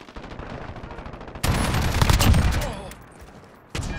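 Bursts of automatic gunfire in the Modern Warfare beta game, a loud rapid volley that rises then tapers, followed by a short fresh burst at the end, with a player's voice faintly underneath.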